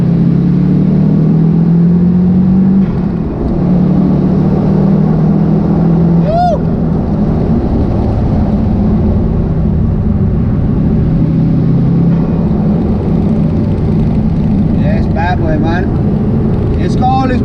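A JDM GC Subaru WRX turbo drives along with a steady, droning engine rumble and rising revs as it accelerates, close and loud, with a few brief whistling turbo-like chirps near the end.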